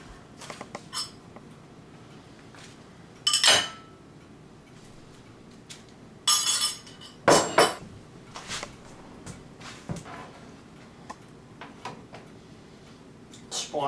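A spoon scooping brown rice into a halved puff pastry shell, heard as a few sparse scraping and tapping clicks spread apart, near and moderately loud over a quiet kitchen background.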